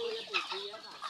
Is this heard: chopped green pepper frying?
no